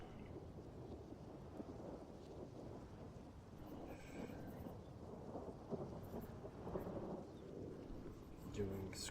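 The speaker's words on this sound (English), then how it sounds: "The thunder didn't get me that time." Steady rain falls with low, continuous rumbling thunder rolling underneath, some gusty swells toward the end, quiet and distant throughout.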